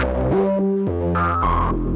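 Pittsburgh Modular SV-1 Blackbox synthesizer plays a stepping arpeggio with sample-and-hold modulation on the filter and added effects, clear tonal notes jumping in pitch in a steady rhythm, loud and upfront with no talking.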